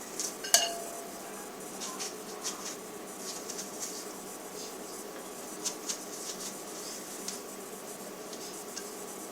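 A knife cuts the top off a pumpkin lid, making quiet close scraping and rasping with light clicks and taps, including one sharper knock near the start, with no talk.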